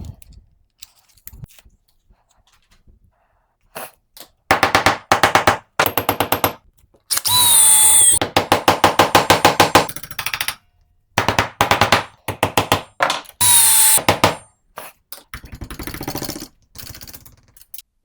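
A power drill bores square baluster holes through a 3D-printed jig, in loud repeated bursts of whining, rattling drilling separated by short pauses, with no talking.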